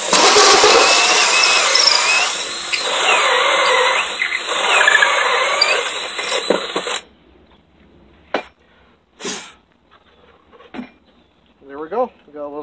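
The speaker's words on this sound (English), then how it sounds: "and then you just drill it." A loud power drill screeches steadily into scrap wood for a birdhouse for several seconds, then stops, followed by quiet bumps and brief handling noises.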